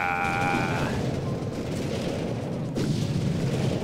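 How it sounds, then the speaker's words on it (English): An explosion goes off in the PS1 video game Army Men 3D, producing a dense, rumbling boom over steady game sound. A brief electronic tone fades out at the start, and a second burst of noise follows later. "Wow, just explosion."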